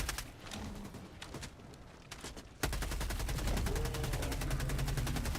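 Helldivers 2 gunfire aimed at an overseer's head: rapid automatic bursts with regular shot pulses that grow louder and denser halfway through, sustained and close in the second half.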